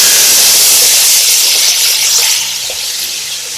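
Jeera and achar masala sizzle in a pot with green seasoning for a Trini curry goat, giving a steady, loud frying hiss that eases slightly toward the end, with no talking.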